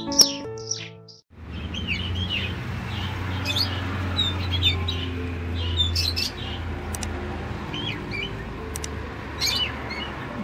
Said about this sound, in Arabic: اليوم استحمام الكناري، سأوفر لهم حمام شمس وحمام ماء أيضا